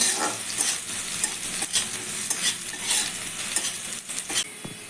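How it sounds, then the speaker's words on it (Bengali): Chopped onions sizzle in hot oil in a pan while a spatula stirs them in repeated scraping strokes. The frying is close and fairly loud, and no one is speaking. "পেঁয়াজগুলো আমি ভালো করে ভেজে নেবো"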